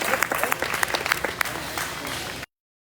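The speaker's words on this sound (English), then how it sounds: "Give these guys a big round of applause as we get ready for that second division." An audience at a junior market barrow show, a livestock show in Arizona, breaks into a round of applause, dense close clapping for about two and a half seconds before cutting off abruptly.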